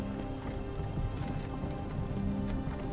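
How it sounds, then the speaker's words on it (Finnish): Horse hooves in the Skyrim VR video game, repeated clip-clop hoofbeats in a steady gait over a dense droning game background, fairly close and continuous. "Hevonen vähän pärisee."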